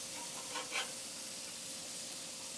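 A flipped burger patty sizzles on a grill with a quiet, steady hiss, plus a couple of faint scraping bursts near the start.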